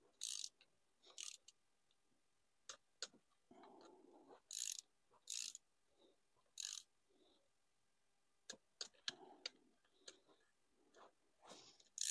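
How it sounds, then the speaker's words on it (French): A ratchet wrench with a 13 mm socket tightens a bolt to 20 newtons on a Ligier Nova 500 microcar, giving quiet, intermittent ratcheting clicks in short bursts with gaps of silence between. "une douille de 13 et on sert à 20 newtons"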